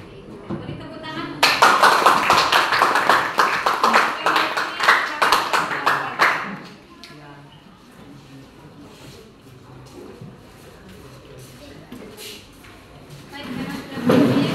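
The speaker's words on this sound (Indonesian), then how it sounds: "Beri tepuk tangan." A classroom audience claps for a group that has just finished presenting: about five seconds of dense, lively applause, then it fades into quieter room murmur and movement, with a brief burst of clapping again at the end.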